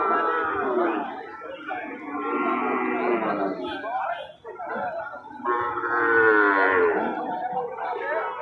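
Bull calves at the Joypurhat cattle market moo in two long, drawn-out, close calls, with faint market chatter beneath.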